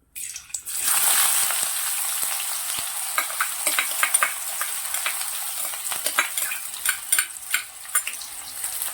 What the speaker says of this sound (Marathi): आता त्याल मस्तपैकी गरम झालेला त्याच्यात घालतंय तो कांदो